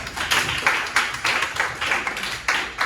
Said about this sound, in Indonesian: Oke, kita berikan tepuk tangan.